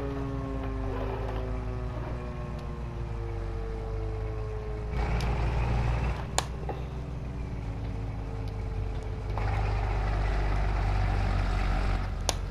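A fire department truck pulling away, a steady, heavy engine rumble with a low hum that holds throughout and grows slightly louder in two stages, with a few sharp clicks along the way.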